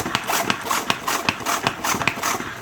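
A pull-string salad spinner whirls rinsed salad close by, giving a steady rhythmic whirring with regular pulses about every half second, alone without talk.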